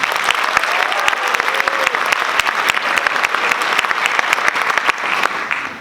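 Audience applause after a drum feature at a school jazz ensemble concert: dense, steady clapping that stays loud and even for the whole stretch, with no talking over it.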